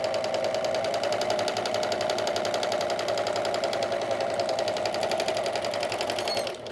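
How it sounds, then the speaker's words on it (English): A 3-thread narrow overlock machine stitches fabric in a steady, fast mechanical whir with a dense rhythmic chatter, running continuously at close range and cutting off just at the end. "It's a 3-thread narrow overlock."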